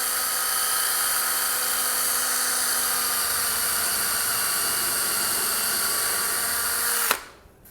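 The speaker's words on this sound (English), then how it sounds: "I'll put 2 screws in each corner." A power drill whirs steadily at high speed as it drives screws into the end grain of wood while building cheap acoustic absorption panels, loud and continuous with no talk, then cuts off abruptly near the end.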